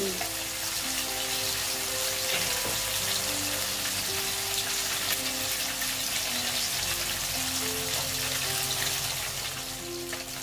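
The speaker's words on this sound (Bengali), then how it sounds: "দেখো, আমি 4টা মাছ ভেজে নিচ্ছি।" Katla fish pieces fry in a pan for a mustard-poppy seed dish, giving a steady, loud sizzling hiss with no speech over it.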